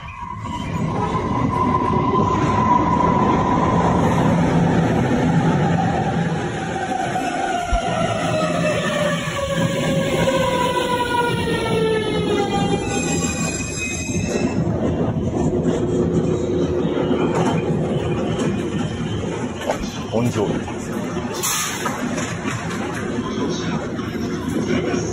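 An ordinary Ueno-Tokyo Line commuter train rumbles steadily and loudly for a long stretch, its motor whine sweeping up and down in pitch, with rail noise and brief squeals over the constant roar.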